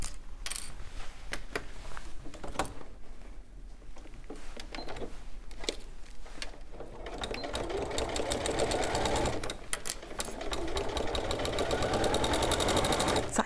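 Sewing machine stitching a PU fabric bag gusset with a Microtex 90 needle, a steady rapid mechanical patter that starts in short slow bursts and then runs continuously and louder through the second half.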